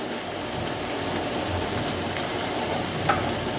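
Fish masala fries in a pan after turmeric is added, giving a loud, dense, continuous sizzle like steady rain with one brief clink near the end.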